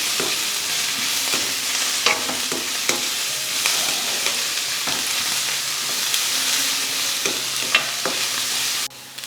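Cut green chillies fry in hot oil in a pan for a Sri Lankan sweet potato tempered dish, giving a steady close sizzle with scattered scraping stirs and no talk.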